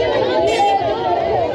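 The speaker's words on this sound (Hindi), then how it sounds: "भाई साहब भयंकर भीड़ है यहाँ।" Dense crowd chatter fills a packed outdoor adventure park with zipline and bungee rides, a steady wash of overlapping voices with no single speaker standing out.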